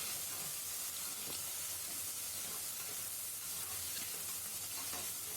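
Curry leaves, mint and other aromatics stirred as they fry in a pan for mushroom biryani, giving a steady loud sizzle and hiss with scraping stirs throughout and no talking.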